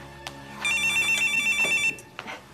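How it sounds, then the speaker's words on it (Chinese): A telephone rings in a home: a short tonal ringtone burst plays steadily for over a second, loud and close, with quieter household sounds before and after it. "接一下电话咧"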